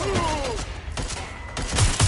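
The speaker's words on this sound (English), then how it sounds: "Suspect has opened fire." Gunfire in the video game Watch Dogs Legion: a few sharp shots cracking out at irregular intervals over a busy, noisy game background, with a whining tone sweeping down near the start.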